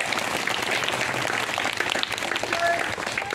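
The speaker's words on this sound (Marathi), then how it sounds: "वा, टाळ्या त्यासाठी" A schoolroom of children breaking into applause, a dense burst of many small hands clapping together at moderate volume, lasting a few seconds with faint voices mixed in.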